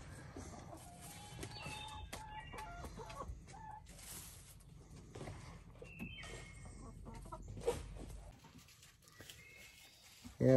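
Australorp and Production Red chickens cluck and chatter nearby in a spacious coop, a steady run of short calls over a low rumbling background, with a brief louder sound at the very end.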